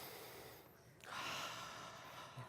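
A person draws a deep breath, a faint airy inhale rising after a brief quiet, followed by a soft exhale near the end, with no talk.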